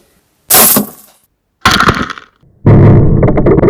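Three loud, close impacts sound in sequence, each a sharp crash of a glass beer bottle shattering from air rifle pellet hits, separated by silent gaps, with tinkling debris ringing out after the last.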